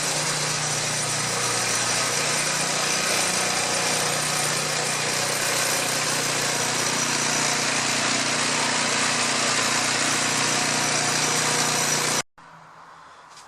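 A Craftsman snow blower engine runs steadily and loudly at a high, even pitch for about twelve seconds, then cuts off abruptly, leaving faint background noise.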